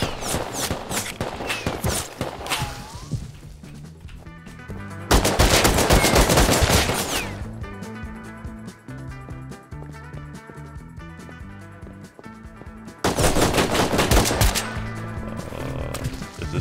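Gunfire in the video game Rust sounds as bursts of rapid automatic shots and single cracks. Two loud dense volleys stand out among scattered quieter shots and background game noise, with no talking.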